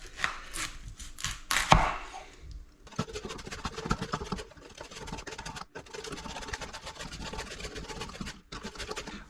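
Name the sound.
shredding red cabbage with a mandolin slicer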